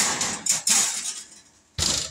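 A metal baking pan clanks against an oven rack as it slides back into a home oven, a few sharp metallic knocks and scrapes close by, then a final clunk after a short pause.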